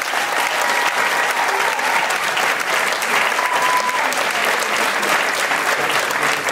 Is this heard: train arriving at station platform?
no